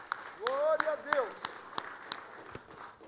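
Sparse, uneven clapping from a church congregation, a handful of crisp hand claps spread out and fairly quiet, while a voice briefly calls out over them.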